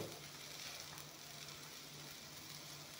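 Eggplant pieces fry in a hot pan with oil, giving a continuous soft sizzle that stays fairly even and close, with no talking.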